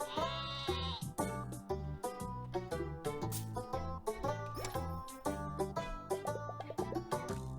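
Repeated synthetic bleats from a giant sheep in the card game Terracards sound in quick succession over a bouncy, tuneful game-style music loop.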